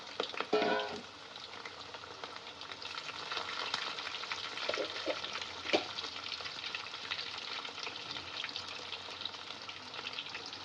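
Salted potatoes for chicken biryani fry and crackle in hot oil, with a loud burst of sizzling and stirring at the start, then steady close frying with occasional scraping clinks, no talking.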